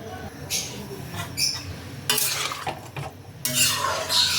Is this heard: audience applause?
no